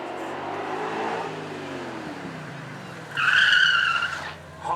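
A Ford GT40 race car at the Beaulieu Supercar Weekend locks its front wheels under braking, its engine note dropping as it slows before a loud, high-pitched tire squeal and skid cuts in near the end, then fades.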